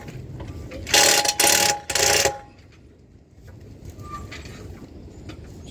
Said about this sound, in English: Let me just loosen the bolt up.